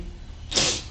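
A single short sneeze bursts out near the microphone, sharp and breathy, with no talk around it.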